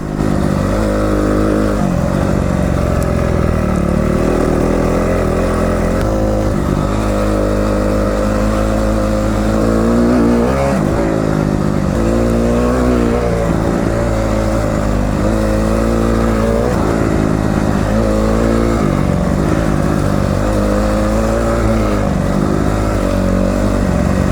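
A dirt bike engine revs on an off-road resort track, loud and continuous with rising and falling throttle surges throughout, close by.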